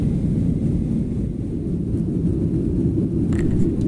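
Steady low roar of an airplane cabin in flight just after leaving Kuala Lumpur, Malaysia, a continuous engine drone with a brief faint hiss near the end.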